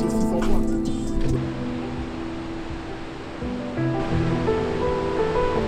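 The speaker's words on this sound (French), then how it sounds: "Seljalandsfoss est une immense cascade de près de 65 mètres de haut." Seljalandsfoss, a waterfall roughly 65 metres high in Iceland, roars as a steady, broad rush of falling water, with a tonal hum and faint voices mixed in over the constant noise.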